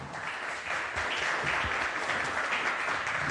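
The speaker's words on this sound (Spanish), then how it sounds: "recibimos con este gran aplauso a Bastián Olea Herrera." An audience at a municipal data science workshop breaks into steady applause to welcome a speaker, a dense wash of clapping that swells slightly and holds for a few seconds.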